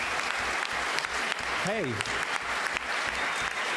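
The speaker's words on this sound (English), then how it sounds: "you're all applauding" Audience at a Halo universe panel discussion clapping, a broad wash of applause from a large crowd under a voice speaking into a microphone.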